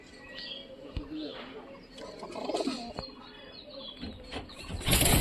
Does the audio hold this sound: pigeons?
yes